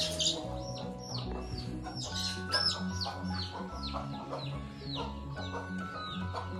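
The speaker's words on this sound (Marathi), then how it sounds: "कोंबड्या आणि पिल्लांची भांडणं." Hens and chicks squabbling in a village yard, a busy overlapping mix of clucks and high peeping chirps, fairly close but soft, with a low background hum.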